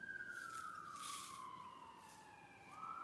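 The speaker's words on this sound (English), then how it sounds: "It's a siren." A wailing siren sweeps down in pitch and then rises again, steady and moderately distant over faint background hiss, with no voices.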